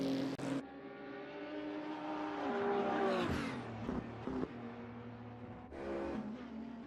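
A GT3 race car in a racing sim brakes into a corner and accelerates out of it. The engine drone holds steady, the pitch drops and shifts through downshifts mid-corner, then it climbs again with a clear rev near the end.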